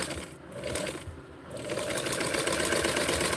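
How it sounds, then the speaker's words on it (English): A sewing machine stitches a Barbie doll dress, running loud and close as a steady whirring drone that briefly slows and then runs on continuously. "I'm just going to sew it on top and outline."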